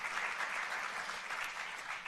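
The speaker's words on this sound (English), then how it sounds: "let's give them a round of applause" Brief burst of audience applause for sponsors at a literary event's grand finale, a continuous crowd of hands clapping at a steady, moderate level.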